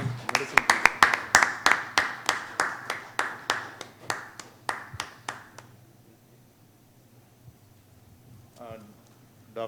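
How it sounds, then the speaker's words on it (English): Applause from a small audience at a medical society meeting: a brisk run of clear, evenly spaced claps that thins out and fades after about five seconds, followed by a brief voice. "Double round of applause."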